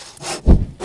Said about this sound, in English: now light it with a bow drill